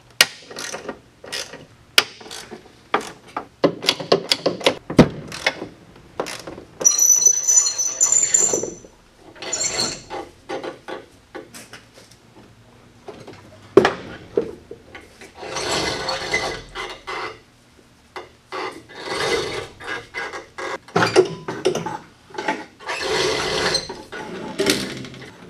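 Bolts come off a 1995 Ski-Doo snowmobile clutch under a ratchet, loud close bursts of rapid clicking and grinding mechanism noise separated by short pauses and metallic handling sounds.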